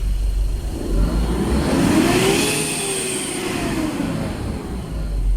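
A 2009 Mitsubishi Strada pickup truck engine, cleared of a low-power and check-engine fault, revs up toward 5,000 RPM and holds at high speed, a loud droning roar with rising whine, then eases back down.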